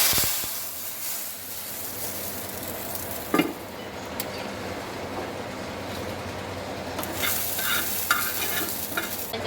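Tempering spices fried in a pan and added to a pot of cooking dal, giving a steady close sizzle and hiss with stirring and one brief sharper burst partway through.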